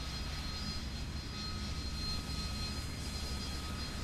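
A thrust-vectoring jet engine in the War Thunder video game throttling up, a steady, loud, broadband roar with a low rumble and faint high whine, continuous throughout.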